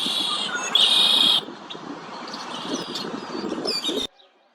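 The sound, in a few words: doves calling in Texas neighborhood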